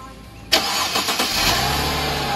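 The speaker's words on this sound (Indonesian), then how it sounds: "Kita hidupkan mesinnya." 2004 Mercedes-Benz W211 E240 Avantgarde engine starting: a brief starter crank catches and settles into a smooth, steady idle, close and clear.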